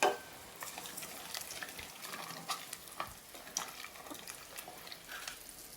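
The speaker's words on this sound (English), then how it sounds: "add in the Chinese leaves and give it a good stir" Chinese leaves being stirred into a simmering soup in a pot, a quiet, steady scraping and bubbling with faint sizzle-like crackle throughout, no voices.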